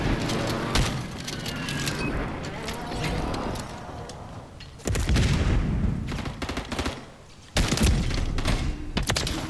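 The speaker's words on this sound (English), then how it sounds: "I do love shotguns in this game when they work out." Shotgun blasts in the Modern Warfare video game, loud repeated gunfire bursts with a heavy blast near the middle and another toward the end over continuous battle noise.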